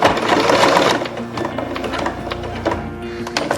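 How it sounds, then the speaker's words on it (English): A domestic sewing machine runs continuously at close range, stitching elastic onto a surgical face mask, its motor whirring with a rapid needle clatter throughout. "put it right under the presser foot, head down the presser foot, right under the presser foot, and get it anchored up, and sew right over it."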